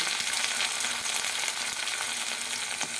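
Chopped tomatoes sizzle steadily in a pan with ginger paste for a soybean curry, a dense continuous frying hiss with faint stirring scrapes throughout, close and fairly loud, with no voices.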